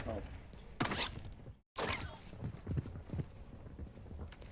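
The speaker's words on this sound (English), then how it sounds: "I can hear footsteps." Footsteps thud in a Black Ops 6 match, a quick run of heavy clomping steps with a brief dropout partway, under a player's voice.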